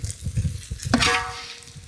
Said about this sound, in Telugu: చూడండి, ఇలాగా గోల్డ్ కలర్ వచ్చేదాకా మనం వేయించుకోవాలి సార్